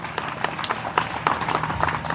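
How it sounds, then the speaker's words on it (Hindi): An audience at a devotional cow-welfare religious discourse gathering claps in welcome of a guest, a steady patter of many hands from a crowd, moderately loud and continuous throughout. "ताली बजाकर फिर स्वागत करता हूं।"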